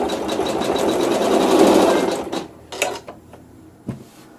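An embroidery machine hums rapidly through tack-down and bubble quilting stitches for about two seconds, then slows and stops, leaving a few scattered mechanical clicks and taps close by.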